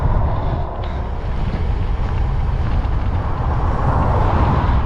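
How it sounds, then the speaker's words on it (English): Strong, relentless wind roaring across the microphone during a bicycle tour in New Mexico, a loud continuous low rumble and buffeting that never lets up. "This wind is insane. It will not settle down at all."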